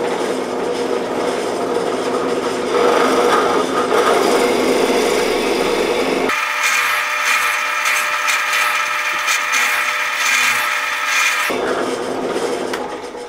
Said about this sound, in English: I'm going to nibble out all the way around this so I have a flat spot the size of my faceplate.